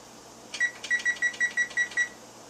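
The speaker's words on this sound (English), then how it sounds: "Timer start 12 minutes." A kitchen timer is set for 12 minutes with a quick run of about nine sharp electronic beeps, one per button press, clear and close in a quiet room.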